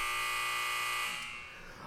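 A loud, steady electronic buzzer drones for about a second, then its tone breaks and shifts into a softer, rougher hum as it tapers off.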